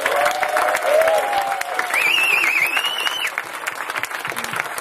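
An audience at a computing competition awards event gives a tour guide a round of applause, loud continuous clapping throughout with a few whistles rising above it.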